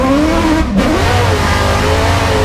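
VW Passat drift car with an equal-length 8-to-1 collector exhaust, its engine revving loud and close with a smooth, rapid, dense note that dips briefly and climbs again.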